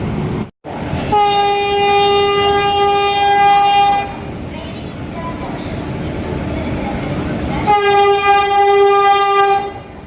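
Circar Express passenger train from Chengalpattu to Kakinada, hauled by a locomotive, rolls along with a constant rumble. Two long, loud horn blasts sound, one near the start and another near the end.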